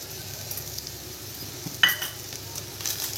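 Kasuri methi and spices dropped into hot oil in a pan, a soft steady sizzle with light stirring and a sharp clink of a spoon partway through.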